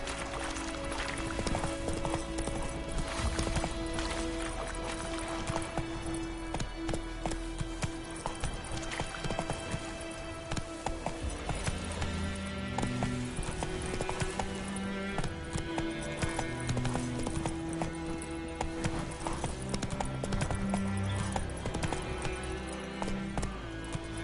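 Galloping hooves of Roach, the horse in The Witcher 3 video game, a fast continuous clip-clop rhythm over a dense, loud layer of game music and ambience.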